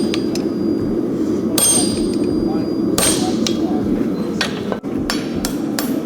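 Hammer blows ring out on a guide fuller against a horseshoe at an anvil: a handful of sharp metallic strikes at an irregular cadence over a low forge rumble.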